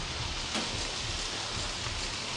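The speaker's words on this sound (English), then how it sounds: "I turned on the sprinkler system" A sprinkler system sprays water indoors in the horror video game Outlast. The hiss is steady and continuous, like heavy rain, and stays fairly loud throughout with no talking.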